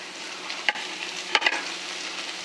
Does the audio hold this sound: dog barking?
no